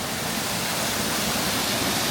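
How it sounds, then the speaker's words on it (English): A waterfall at Tokyo Disneyland roars as a steady, loud, broadband rush of falling water, close and unbroken, with no voices. "Another good waterfall."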